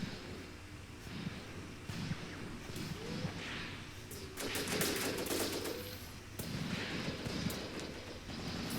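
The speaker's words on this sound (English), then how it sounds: "we're already getting some nice enemy fire to what I think is an enemy trench system over here" Enemy gunfire crackles in the war game Graviteam Tactics, with scattered distant rifle shots and short machine-gun bursts over low battlefield rumble. The firing thickens briefly midway and stays fairly faint throughout.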